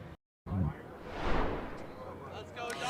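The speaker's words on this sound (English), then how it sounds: "Fireworks are just kind of going off, kind of last minute like party" Fireworks at a street celebration after the Dodgers won the 2024 World Series, a single deep boom with a swelling whoosh and crackle heard from a distance amid ambient crowd noise.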